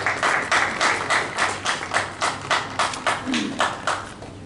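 Audience applause at a participation shield ceremony for auto parts manufacturers in Pakistan, a steady mid-level clapping from a seated crowd with rhythmic swells, no talk over it.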